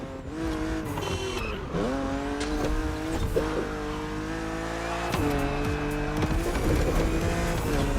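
A BMW Z4 E89 drives in The Crew Motorfest racing game, its engine revving loudly and shifting pitch through gear changes, with tires squealing as it skids through corners, and no talking.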